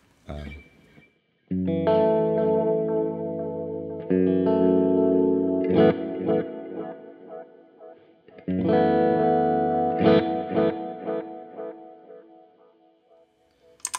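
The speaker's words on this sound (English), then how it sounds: "So you can make it more like an older style tape." Sustained guitar chords ring out through a Line 6 DL4 MkII pedal's tape-style delay, warbling and slightly wavering, repeating in swells separated by brief pauses.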